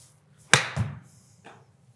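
A Srixon Z Star Diamond golf ball is struck by a club with one sharp, crisp click, followed by a soft thud and a faint later tap in a quiet outdoor setting.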